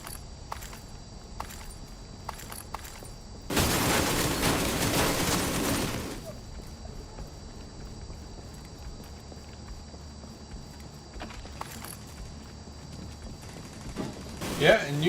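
An ammo stockpile detonates in The Division 2, a loud roaring blast that lasts a couple of seconds. Sparse clicks, footsteps and distant thuds fill the quieter stretches before and after.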